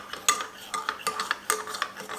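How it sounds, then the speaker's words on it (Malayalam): A spoon stirs gram flour batter to break up lumps, giving quick, soft, irregular scraping and tapping strokes against a bowl, close and clear with no talking. "അപ്പോൾ അറിയാലോ കടലമാവിൽ നല്ല കട്ടയുണ്ടാവും. അപ്പോൾ നന്നായിട്ടൊന്ന് മിക്സ് ചെയ്തോളൂ."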